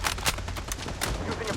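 Rapid gunfire in the shooter game Blood Strike, dense overlapping shots crackling continuously through a short burst.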